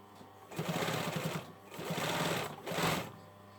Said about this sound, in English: Now I'm just edge stitching it because it just gives a nicer, especially as the fabric's just two different fabrics, it gives a nice crisp edge to it